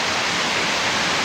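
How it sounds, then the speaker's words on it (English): Grindle Clough Brook rushing steadily near Edale, a loud, even broadband wash of flowing water filling the whole moment. "And a nice bit of water here, so we'll just capture the reason that you got the sound in the background."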